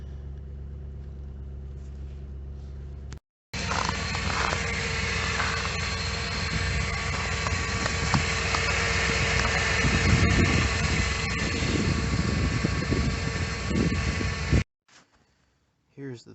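A 2006 Jeep Commander with a 5.7 Hemi engine runs after a cold start at -10°F, giving a steady, close rumbling idle under a loud broadband roar, with a brief cut before it and a quiet stretch after.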